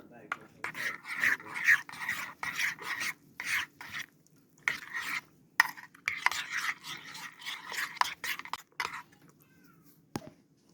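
Rhythmic scraping and rasping of a spoon stirring corn muffin mix batter with yogurt in a bowl, steady repeated strokes close up, with a few pauses and a light clink near the end.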